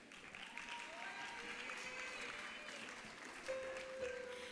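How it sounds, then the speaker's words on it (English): Applause from an audience at a fifth grade graduation ceremony at an elementary school, steady and moderately distant, with faint voices and a brief tonal sound mixed into the clapping. "can we have another round of applause for Mr. Cavazos' fifth grade class"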